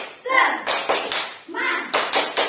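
Fourth-grade elementary schoolchildren doing the rhythmic tepuk semangat clap, groups of sharp claps alternating with chanted voices in a classroom, repeated twice in a quick pattern.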